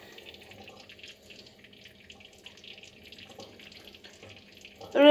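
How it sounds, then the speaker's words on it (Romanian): Aquarium water drains into a kitchen sink with a faint, steady trickle and splash, growing to a louder gush at the very end. "Pun apa în chiuvetă ca să nu mai stau să o arunc, să o pun în lighean sau ceva"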